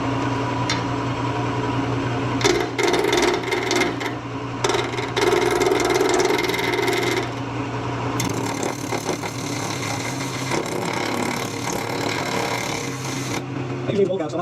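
A wood lathe spins a small resin box at about 1200 RPM, a steady humming whine with intermittent scraping bursts as the tool touches the piece, while a person talks over it.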